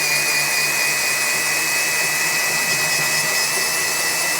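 A drill spins a hard-bristle wire brush forced into a bore for honing, producing a loud, steady, high whine with a rough scraping hiss that holds unchanged throughout.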